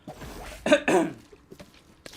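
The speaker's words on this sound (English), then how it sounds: "I just tend to cough during this stream for some reason" A close, sharp cough bursts out twice in quick succession and then stops, with only faint room sound around it, from a player streaming Fortnite.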